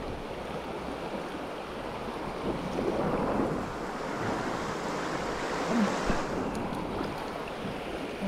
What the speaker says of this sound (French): Là, il y a un joli coup de vent là.